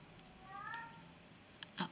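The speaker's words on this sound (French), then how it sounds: "Vous entendez un chat" A cat meows once, a faint drawn-out call in a quiet indoor room during knitting, followed by a brief soft knock or rustle nearby.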